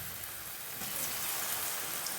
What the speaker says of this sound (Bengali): তেল গরম হয়ে গেছে, আমি সয়াবিনগুলো তেলে ছেড়ে দিচ্ছি।